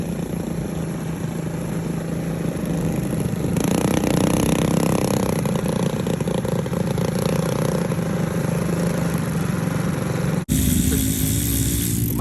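A Coleman 196 minibike engine with carburetor issues runs steadily nearby, a rough continuous putter with a slight change in tone partway through and a brief dropout near the end.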